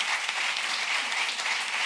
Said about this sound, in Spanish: Les pido un nuevo fuerte aplauso para José, para The Fresh.